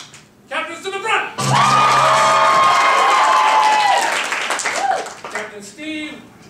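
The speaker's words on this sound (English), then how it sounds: "I need you to scream and yell like this." An audience at a ComedySportz improv comedy show in Provo erupts into loud screaming and yelling that lasts about two and a half seconds, with a voice speaking just before and after the outburst.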